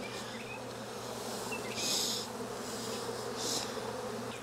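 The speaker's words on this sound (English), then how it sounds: "So I don't squish too many bees when I do this." Honey bees drone around an open backyard hive in Jacksonville, Florida, a steady close buzzing hum with a few louder passes as single bees fly near, no talking.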